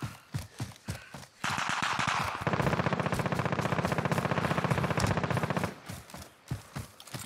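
Video game gunfire: a long sustained automatic burst of rapid, evenly spaced shots, preceded and followed by scattered single shots, loud and close.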